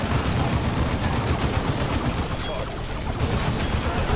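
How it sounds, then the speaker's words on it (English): Bolter fire in the video game Dawn of War II, a dense, unbroken rattle of rapid gunfire and battle noise, loud and close throughout. "we're funneling him into so much bolter fire"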